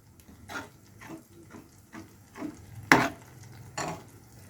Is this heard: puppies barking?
no